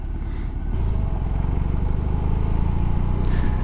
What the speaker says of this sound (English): on low revs, that boxer engine's super shaky